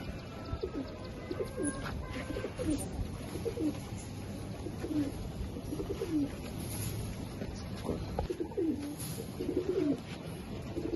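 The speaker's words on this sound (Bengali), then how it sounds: "এটা হচ্ছে একটা বাঘা নর কবুতর" Bagha pigeons, including a male, coo close by in a repeating series of low, throaty calls over a constant background hiss, with no one speaking.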